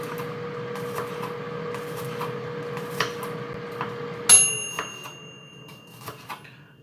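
A knife thinly slicing a single garlic clove on a board, a series of soft close taps and cuts with one sharper knock partway through, over a faint steady background hum.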